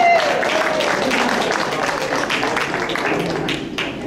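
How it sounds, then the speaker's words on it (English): Applause from a crowd at a senior Halloween lunch in a park, a steady wash of clapping hands lasting a few seconds and tapering slightly toward the end, with a faint voice underneath. "Let's give everyone a round of applause."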